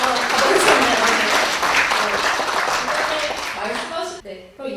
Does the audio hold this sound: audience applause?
yes